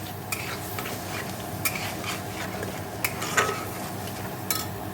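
Crab frying in oil with spices, stirred in a pan: a soft continuous sizzle under intermittent utensil scrapes and light metallic clinks, fairly quiet and close.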